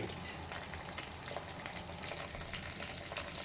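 Mustard seeds and dried and green chillies frying in hot oil for ragi idli, giving a steady dense sizzle throughout with faint crackles.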